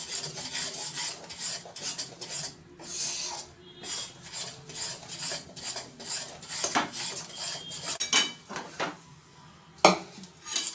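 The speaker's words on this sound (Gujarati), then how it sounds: "ગેસ ઉપરથી ઉતારીને આપણે આવી રીતે હલાવતા એને થોડું ઠંડુ કરી લઈશું" Roasted flour being stirred in a pan off the heat to cool, with a spoon rasping and scraping against the metal in steady, repeated strokes and occasional sharper clinks, close and with no talking.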